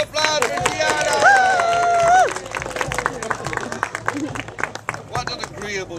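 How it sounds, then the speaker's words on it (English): A voice calls out briefly, then a crowd breaks into sustained applause, many hands clapping in a dense, lively patter. "Give it a round of applause for Gianna."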